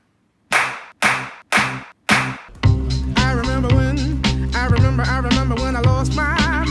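Four sharp, loud hand claps in a steady rhythm, then music with a thumping beat takes over and continues to the end.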